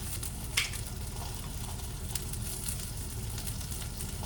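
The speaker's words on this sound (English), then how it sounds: "It's kind of spurting oil, so just be careful." Chicken breast frying in spurting oil, a steady close sizzle and crackle with a few sharper pops, continuous and fairly quiet, with nobody talking.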